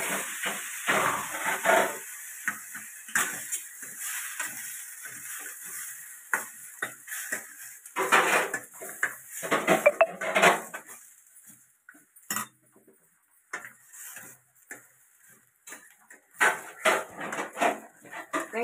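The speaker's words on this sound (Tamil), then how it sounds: "நம்ம கட் பண்ணி வச்சிருக்கிற தக்காளியை வந்து நம்ம சேர்த்துக்கணும்." Chopped tomatoes being sautéed with onions in a pan for ginger garlic tomato chutney, with a stream of close scraping and clinking spatula strokes over a soft hiss, some louder bursts.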